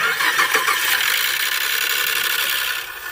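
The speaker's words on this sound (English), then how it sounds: "I want to show y'all what it used to sound like on cold start with those old cam phasers" Ford EcoBoost engine with worn cam phasers cold-starting, a loud broadband whirring and rattling clatter held steady for a few seconds, then dropping slightly in level.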